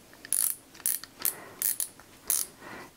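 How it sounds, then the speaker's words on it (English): Star drag on a Shimano Ocea Jigger saltwater jigging reel clicking in short, crisp ratcheting bursts, about six separate clicks spaced irregularly over a few seconds, close and clear with no talking. "this is just a star drag system on the OCEA Jigger."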